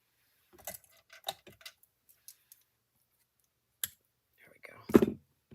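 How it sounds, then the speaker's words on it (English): Scissors snipping through paper card at a craft table, a few sharp close clicks and cuts spread out, with a soft voice murmuring in between. "Let me just snip that."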